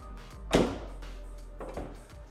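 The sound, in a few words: BMW 850i car door being shut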